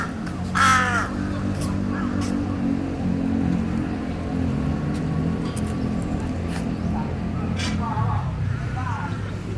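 Crows caw repeatedly in a Bangkok park, harsh calls rising over a steady low rumble of traffic and distant voices, with a few louder nearby caws standing out.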